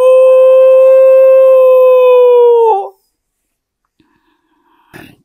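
A voice imitates the mournful crying howl of dogs, a sustained wavering tone lasting nearly three seconds before cutting off, followed by quiet and a brief faint noise.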